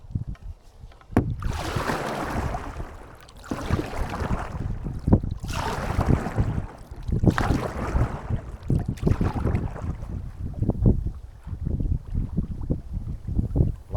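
A canoe paddled toward a lake shore for docking on windy autumn Hullvann Lake in Norway, with close, repeated broad splashing strokes and rustling gusts of wind, then sharper knocks and scrapes near the end; no one speaks.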